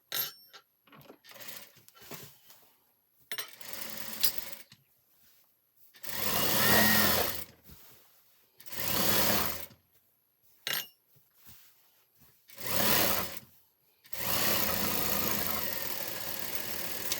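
Sewing machine stitching a shirt seam, several loud bursts of rapid whirring stitches lasting one to two seconds each, separated by quiet pauses with small handling clicks, close by and without talk.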